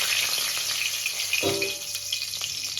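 Cinnamon, cloves and bay leaves dropped into hot oil for chicken biryani, a steady hiss of frying with a brief sharper splash and crackle partway through.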